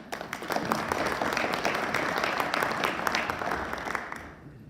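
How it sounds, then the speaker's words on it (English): Audience applause at an inland port symposium, a dense, steady wash of many hands clapping that holds for several seconds before thinning out at the end. "So give her a applause."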